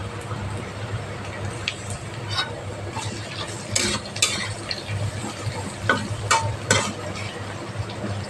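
Carrot is being fried with onion in a pan for masala oats, with a soft steady sizzle under repeated scraping and clinking stirring strokes that come in irregular bursts.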